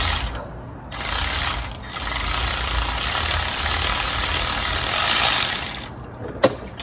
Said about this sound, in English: I'm going to use my little screwdriver, my ratcheting battery operated ratchet.